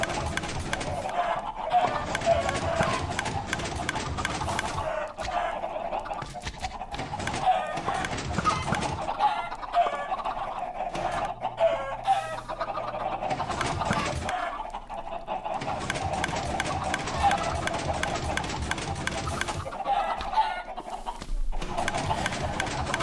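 Chickens in a Minecraft automatic chicken cooker cluck and squawk repeatedly, a dense, steady stream of game animal calls with no talking.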